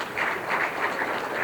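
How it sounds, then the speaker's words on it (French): Audience applause at a graduation ceremony for the 14th graduating class, a steady, dense wash of many hands clapping together, held at an even level throughout with no voices standing out. "Profitez pour m'applaudir aussi"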